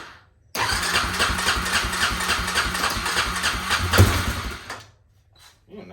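Suzuki Eiger 400 ATV engine with the choke on, cranking and catching, then running steadily and loudly at close range for several seconds with a brief rev near the end before cutting off to quiet.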